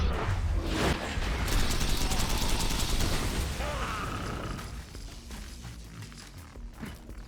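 Rapid gunfire from the Lady Fist pistol in Borderlands, a loud dense burst of shots with impacts and game effects through the first half, then tapering into quieter action.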